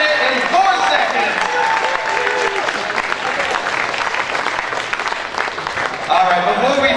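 Crowd applauding at a motorsports expo media pit challenge, a broad steady wash of clapping that runs the full length with a brief swell near the end, with voices talking over it.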